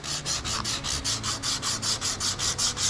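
Hand sanding with 120 grit sandpaper in straight strokes for a brushed finish on an M-1 Cobra build, a steady rhythmic rasp of about four strokes per second, close and alone.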